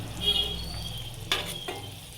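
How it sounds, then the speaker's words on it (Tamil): Prawns stirred with curry leaves in a hot pan of ghee for a prawn ghee roast, a steady sizzle of frying under a couple of sharp scraping strokes of the spoon against the pan. "இப்போ இதையும் ப்ரான்ஸையும் நல்லா மிக்ஸ் பண்ணி விடணும்"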